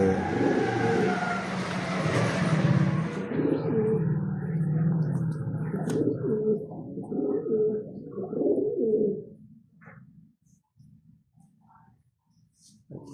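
Low, soft pigeon coos roll under a steady background hum, continuing for several seconds before fading to near quiet with faint scattered sounds.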